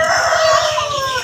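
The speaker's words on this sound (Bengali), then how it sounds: "সন্ধ্যা হয়ে যাচ্ছে, মুরগি ডাকছে।" A rooster crows loudly and close at dusk, one sustained, strained call held through the whole moment with no talk over it.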